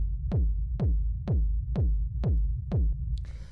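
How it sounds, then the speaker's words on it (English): Rumble kick drum for a dark Berlin techno track at 125 BPM, six deep booming hits in steady four-on-the-floor rhythm, each followed by a low rolling tail, with a brief hi-hat-like hiss at the end. "So what this is it's a rumble kick"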